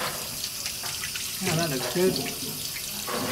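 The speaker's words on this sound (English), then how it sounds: "Do you leave the water running the whole time?" Tap water running steadily during hand rinsing at a sink, a broad continuous hiss with someone speaking briefly over it partway through.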